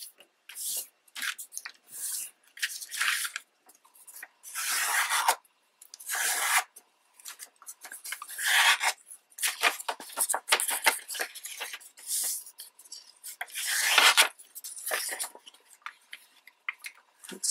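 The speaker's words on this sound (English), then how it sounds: "So I'm going to tear this off." Paper being torn by hand into strips for folding origami envelopes, a series of short dry rasping rips repeated close up with brief pauses between pulls, no talking.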